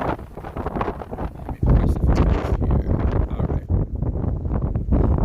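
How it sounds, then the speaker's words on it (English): Steady, heavy wind buffeting the microphone, rumbling and gusting louder after the first second and a half, with faint rustling underneath. "And my camera is shaking, it's super windy."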